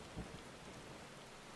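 Rain and thunder in Final Fantasy XIV: faint, steady rain hiss with a soft, low thunder rumble near the start, quiet and distant throughout.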